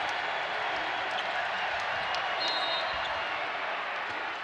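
Arena crowd at a women's college basketball tournament game between Nebraska and Oregon State, sustained loud cheering and applause as a broad steady roar, with nearby voices underneath.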